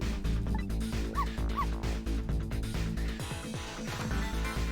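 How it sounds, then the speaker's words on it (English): Dog from a video game yipping and barking in quick bursts as a goodbye, a couple of whimpering yips over a dense, rumbling game soundtrack, moderately quiet. "Immediate barks. But that was a goodbye bark, I guess."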